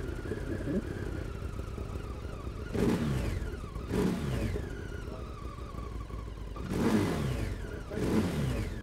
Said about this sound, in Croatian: Vidite vi kako se čuje ovaj V2 motor što se meni svidjelo